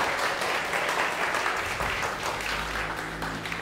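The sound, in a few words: congregation applause for Jesus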